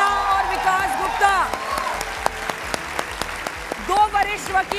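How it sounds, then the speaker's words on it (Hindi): A studio audience at a televised Hindi debate show claps to welcome two senior lawyers onto the stage. The clapping is scattered and moderate, and a host's voice and music run over it. "तालियों के साथ स्वागत कीजिए"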